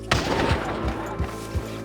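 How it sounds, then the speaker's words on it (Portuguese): A single gunshot in Red Dead Redemption 2 cracks out sharply at the start, followed by a few duller thumps spaced through the rest of the moment, with no talking. "eu escuto um tiro"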